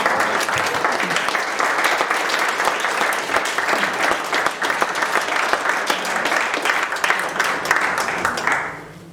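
A church congregation claps loudly and steadily together, a dense burst of applause that carries on evenly and then fades out near the end.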